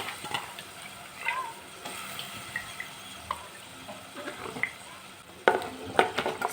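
Chana dal tumbles into a pan and is stirred while frying for seemebadnekai kootu, with scattered clinks, scrapes and soft sizzling, quiet at first and then a louder clatter of stirring near the end.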